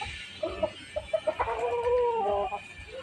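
A hen clucks in short separate bursts, then in a longer run of calls close by, with no voices and a steady hum of farmyard noise underneath.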